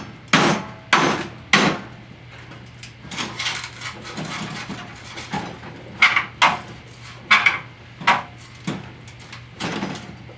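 A screwdriver is hammered through leftover metal during frame crossmember repair on a 1996 Toyota RAV4, with about a dozen sharp, ringing metallic blows in irregular bursts, some close together and loud, others softer.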